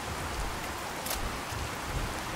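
Steady rain in Fallout 4 hisses evenly across the whole clip, a dense wash of falling drops with a faint low rumble underneath.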